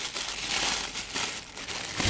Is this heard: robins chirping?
no